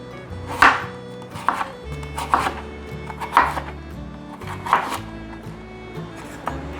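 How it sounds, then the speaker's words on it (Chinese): A knife slicing peeled carrot on a cutting board, sharp distinct chops landing in an irregular rhythm, close and clear with no talk. "把红萝卜切片"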